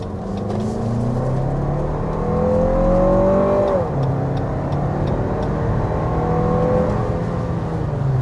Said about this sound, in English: we need to start with a hard acceleration